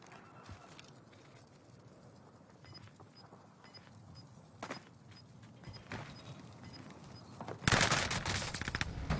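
Gunfire in a video game match with a marked bounty target: scattered single shots with a steady noisy backdrop, then a loud, sustained burst of rapid fire close up near the end.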